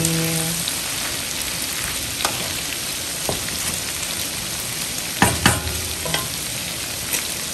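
Garlic shrimp sizzles and fries steadily in a pan, a dense crackle broken by sharp clatters of stirring around the middle and a few lighter scrapes, with no one talking.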